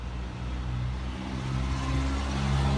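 A car drives along a street in Lima, Peru, its steady mid-pitched engine rumble growing slightly louder over a few seconds against constant traffic noise, with no voices.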